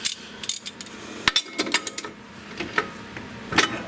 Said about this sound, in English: use a ratchet